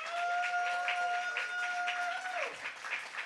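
A science slam audience in Karlsruhe claps as the next presenter is called to the stage, a moderate wash of applause with a tonal whistle or feedback line running through it and fading out.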